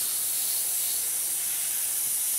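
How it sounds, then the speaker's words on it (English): An airbrush sprays acrylic paint onto a Revell 1/48 Junkers Ju 52/3m scale model, giving a close, steady, loud hiss of compressed air that never varies and has no talk over it. "Now I'm just going to spray it all through with an airbrush."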